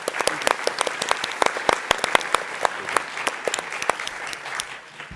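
An audience applauds after a startup pitch competition session, with sparse, distinct individual claps that fade slightly toward the end.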